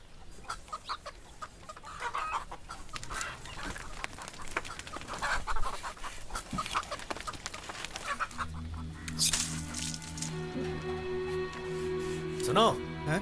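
A hen clucks and a rooster calls in a household yard amid constant voices and background noise, with a musical score swelling in over the later part.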